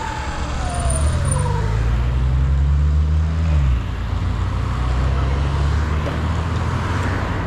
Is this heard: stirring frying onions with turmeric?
no